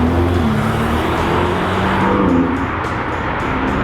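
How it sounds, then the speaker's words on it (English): An Audi R8 V10 sports car passes on a Monaco street, its engine a steady loud roar that swells and fades over about four seconds amid city noise. "Oh, look at an R8 V10."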